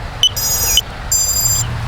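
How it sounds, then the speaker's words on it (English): LANCHI 76mm micro FPV race drone beeper sounding after its battery is plugged in, two sustained shrill electronic tones separated by a short gap, loud and close with faint clicks between them. "this is going to be my beeper, this temporary switch. You hear it beeping"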